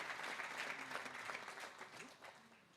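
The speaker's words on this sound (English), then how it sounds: "Let's give him a round of applause." A crowd at a shrine's grand opening claps in sustained applause, a busy wash of many hands that stays full and even before easing slightly toward the end.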